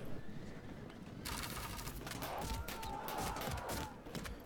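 Horses neighing during a Field of Glory video game battle against Scythian nomad light horse archers, a faint whinny rising over a steady battle din with bursts of clatter and volley-like noise.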